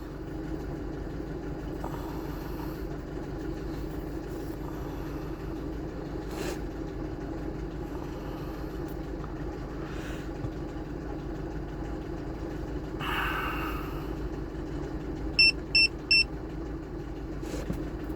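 A 2.3 turbo petrol engine in a Mazda CX-7 with 170,000 km idles steadily at a low, even hum while it warms up. There are a few faint clicks and a short run of quick beeps near the end.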